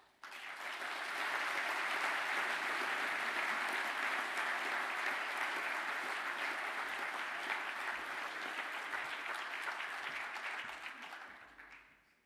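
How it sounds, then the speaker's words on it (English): Sustained applause from a large audience at a graduation ceremony honouring new graduates, a dense even clapping that rises quickly, holds steady for about ten seconds, then tapers off. "Now I'd ask the new graduates to stand for a well-earned round of applause."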